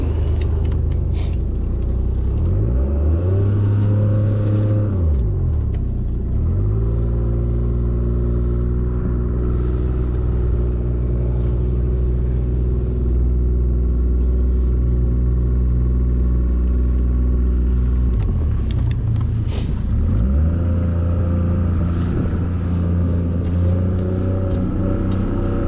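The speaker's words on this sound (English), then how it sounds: "Start the boat." The engine of an aluminium boat on a trailer runs with a loud, steady low rumble, its pitch dipping and rising twice as it is revved and eased off.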